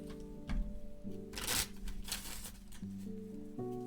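A Magic: The Gathering card deck being shuffled by hand during a game, a few close riffling bursts with short pauses between them and low background hum.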